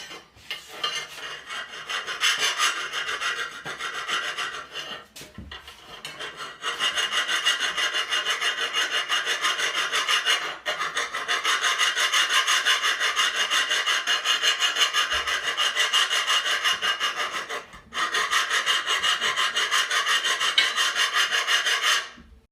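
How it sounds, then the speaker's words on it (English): Hand file scraping along the edge of a lawn mower blade, a close, loud rasp in long repeated strokes with a few short pauses between bursts. "I would use a coarser file and then a finer file to get them a sharper edge"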